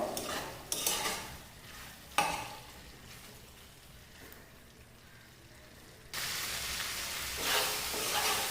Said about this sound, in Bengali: আর আমি এইভাবেই নেড়ে এর বাকি ঝোলটুকু শুকনো করে নেব।